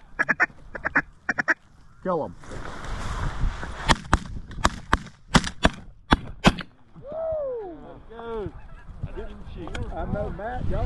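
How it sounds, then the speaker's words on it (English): Ducks and geese honk and quack in a loud, busy flurry during a snowstorm duck hunt in Alberta, with sharp loud bangs in between and someone speaking briefly. "Oh gosh, ducks. Here comes ducks."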